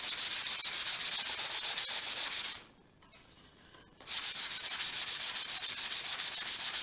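Close, steady rasping of 220 grit sandpaper rubbed over machined wooden pencil box parts, with a brief quieter pause in the middle before the sanding resumes at full strength.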